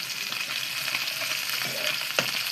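Tomatoes frying in a pan for a rohu fish curry, giving a steady close sizzle with soft stirring scrapes and a sharper knock near the end.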